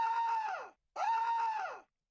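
A synthetic scream sound effect plays twice, two long sustained wails of under a second each separated by a short silence, loud and isolated.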